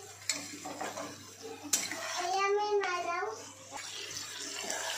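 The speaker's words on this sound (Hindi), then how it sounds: "इसे भी अच्छे से मिक्स कर लेंगे" Tomato pieces being stirred into a chicken masala curry in a pot, with a spoon scraping and wet clattering at moderate level, mixed with a faint voice and a clear whistling, sweeping tone in the middle.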